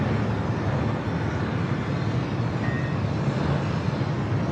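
A Delta Airlines Boeing 737-900ER departing LAX for Detroit, a steady loud broadband jet roar without a break, heard from the airport surroundings.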